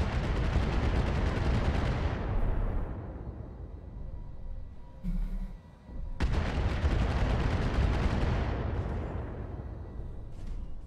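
Artillery fire in the Battletech video game: two heavy, booming barrages, each a loud roaring blast that slowly fades, separated by a brief quieter gap with a small thud.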